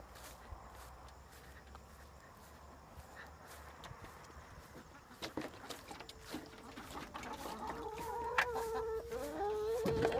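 Chickens cluck at a backyard coop on a damp winter day after overnight rain, starting faint amid footsteps and soft rustling, then growing louder and more insistent in the last few seconds as the birds gather close.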